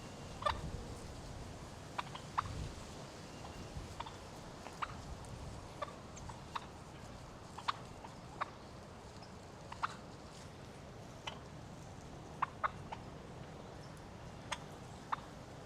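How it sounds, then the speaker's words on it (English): Wild turkeys gobble and cluck faintly from beyond a fence, scattered short calls over a quiet outdoor background with no speech. "Hearing these crazy noises over the fence, and I went to go look, and a bunch of turkeys out here."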